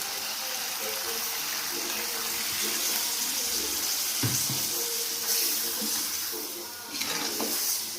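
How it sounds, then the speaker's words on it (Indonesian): Water pours steadily into a pot of chicken being braised with spices, a continuous splashing trickle with a brief clatter partway through and a voice speaking faintly underneath. "Ini masukkan airnya lagi karena kan kurang"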